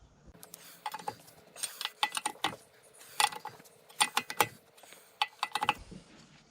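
Trailer wheel lug nuts being tightened with a hand wrench: a series of close, sharp metallic ratcheting clicks in short clustered bursts separated by pauses, with no talking.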